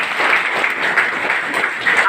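Audience applause, a dense steady patter of many hands clapping at close range, filling the whole moment without pause.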